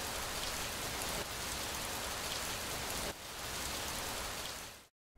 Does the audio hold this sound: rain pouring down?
yes